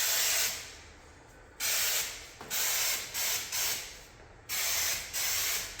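Short hissing bursts of drywall texture sprayed from a cheap aerosol can into a sink, several pressurized sprays with brief gaps, loud and close.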